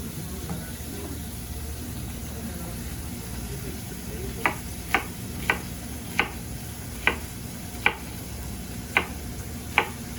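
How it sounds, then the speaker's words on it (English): An onion being chopped with a knife on a cutting board in a home kitchen, heard as a series of about nine sharp, crisp taps at a steady, unhurried pace, close and clear over a low background hum. "I'm gonna cut up the rest of this onion"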